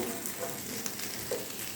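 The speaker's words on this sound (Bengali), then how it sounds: "উল্টে দেওয়ার পর এর মধ্যে আমি আরও একটু বাটার দিয়ে দিচ্ছি যাতে ওই দিকটাও মানে নিচের দিকটাও ভালোভাবে ভাজা হয়ে যায়" Frying in butter in a pan on a low flame, a close, even crackling sizzle that carries on without a break across the short moment, with no talking.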